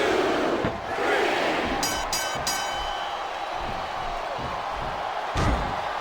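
A crowd in the WWE SmackDown vs Raw 2007 video game: a steady, loud arena roar of cheering with a few sharp slams and brief high rattles over it, and no clear speech.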